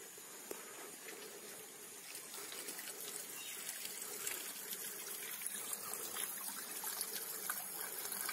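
A thin stream of spring drinking water in the Goa jungle trickles and splashes steadily, quiet and close, with no talking.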